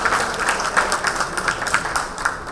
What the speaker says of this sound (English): Can you have a round of cheer one more time to thank all of our panel members?